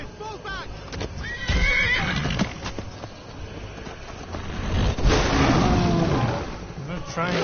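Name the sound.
horse neighing in the video game Skyrim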